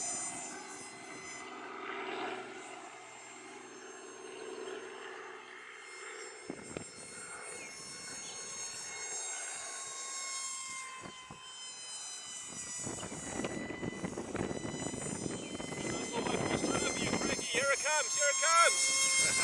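An Eachine Mini F22 Raptor RC jet flies outdoors, its thin motor whine and buzz swelling louder and more ragged as it passes nearer, with faint voices underneath.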